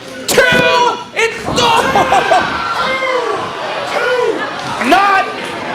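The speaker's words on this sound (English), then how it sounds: "Man, you can hear the gasp from the crowd." A wrestling video game crowd gasps and roars in an arena after a massive spine buster, with excited commentary talking over the swelling crowd reaction and the thud of impact.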